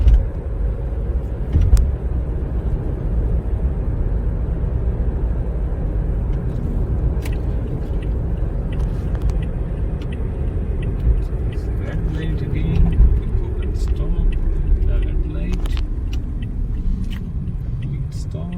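Cars and a bus passing on a road in Brampton during a G2 driving test, heard from inside a car as a steady, loud low rumble of engines and tyres that runs the whole time.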